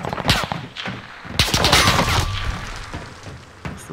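Grenade blast and gunfire in Warzone Pacific: a close run of sharp shots, then a heavier boom around the middle that trails off, with a few more scattered cracks toward the end.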